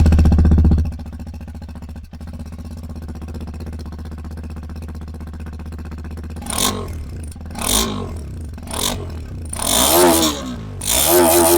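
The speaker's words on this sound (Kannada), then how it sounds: "ಸೊ ಇವಾಗ ಎಕ್ಸ್ಪಲ್ಸ್ 210 ಎಕ್ಸಾಸ್ಟ್ ನೋಟ್ ಯಾವ ಥರ ಇದೆ ಅಂತ ಕೇಳೋಣ." Hero XPulse 210 motorcycle with a new radiator, idling steadily at first, then blipped through several sharp throttle revs that rise and fall, with a couple of longer rising revs near the end, loud and close.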